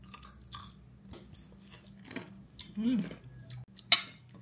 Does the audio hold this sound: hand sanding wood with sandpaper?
no